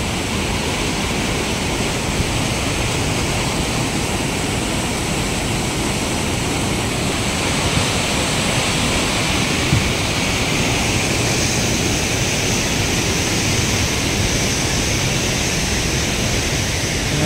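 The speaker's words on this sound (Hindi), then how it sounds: "नदी नाले झरने" Steady, broadband rush of a mountain river and waterfalls near Kugati in Bharmour, continuous and fairly loud with no letup and no voices.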